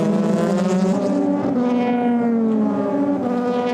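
Euro Formula Open race cars at the Paul Ricard circuit scream past at full throttle, a loud, sustained high-pitched engine note whose pitch rises and sweeps as the cars accelerate, with no other sound over it.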